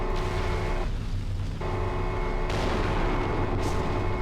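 Heavy Gauss rifle fire in MechWarrior 4: Mercenaries, a dense, booming continuous battle din with a couple of sharp, bright cracks cutting through the rumble.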